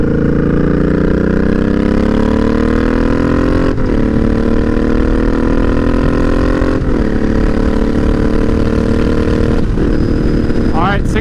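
A 2013 Suzuki Boulevard M50 (VZ800) bobber motorcycle engine drones loud and steady on the road, its pitch climbing through each gear and dropping briefly at three shifts, with constant wind rush.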